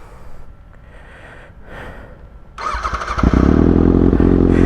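A Kawasaki ZX6R motorcycle fitted with an Austin Racing GP1RR exhaust is started after some quiet fumbling, catching with a burst and settling into a loud, close, steady idle rumble.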